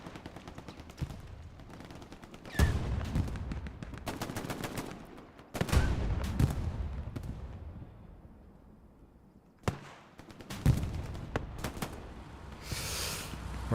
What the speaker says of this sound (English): Rockets are coming in.